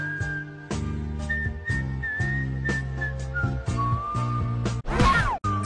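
Someone whistling a long, wavering tune over a backing of steady beats and tones, with a sharp crash near the end.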